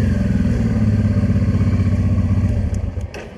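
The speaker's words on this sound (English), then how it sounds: "here, motorcycle." A motorcycle engine runs loud and close on a lively street in Białystok, Poland, with a throbbing, pulsing idle that rumbles on before tapering off near the end.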